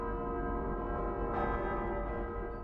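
Bells ring in an anime episode of Death Note, a sustained resonant peal with rich overtones that hums steadily, swelling slightly midway and fading toward the end.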